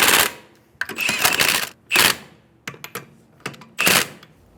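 Lug nuts being snugged down on the rear wheel of a 2011-2014 Hyundai Sonata, heard as a series of close, loud ratcheting bursts separated by short pauses.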